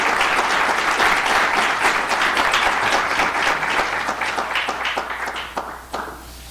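An audience at an Islamic community center in Utah Valley applauds to welcome Dr. Cook, dense sustained clapping that thins out and fades toward the end, with no talking over it.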